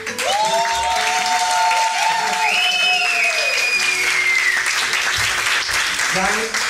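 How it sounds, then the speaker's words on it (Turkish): Steady crowd applause in a Turkish gazino-style cabaret show, continuous throughout with a voice and some sliding whistle-like tones over it. "Yani bu alkış olmaz arkadaşlar."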